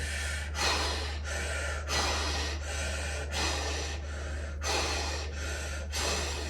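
Deep, steady breathing in long repeated cycles, each breath a broad rushing hiss, over a constant low hum.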